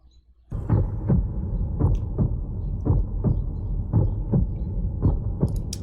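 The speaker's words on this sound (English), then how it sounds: "There's a heartbeat." A deep, thudding heartbeat from the E3 2019 trailer for the Breath of the Wild sequel, with paired low beats in a steady slow rhythm over a dark rumbling drone.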